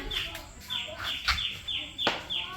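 A chicken clucks repeatedly in short, evenly spaced bursts close by, a run of about half a dozen calls with faint background noise.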